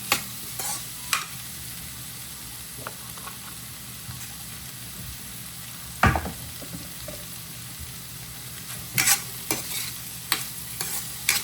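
Green beans fry with garam masala in a pan over a medium gas flame, with a steady sizzle and a spoon scraping and clanking close by as it stirs.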